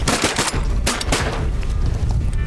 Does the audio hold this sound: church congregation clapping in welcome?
no